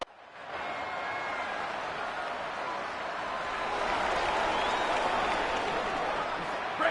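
A large stadium crowd at a college football game involving Navy roars and applauds in a broad, sustained wash of noise that swells slightly midway and holds steady throughout.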